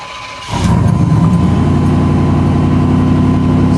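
A GMC truck engine cranks and catches about half a second in, then settles into a loud, steady, slightly high idle that continues evenly to the end.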